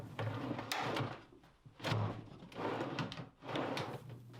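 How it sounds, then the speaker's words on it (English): A wooden drawer in a workbench cabinet slides in and out on its drawer slides several times, a rolling rumble with soft knocks at each stop, close but fairly quiet. "I could put the drawer back in and test the function"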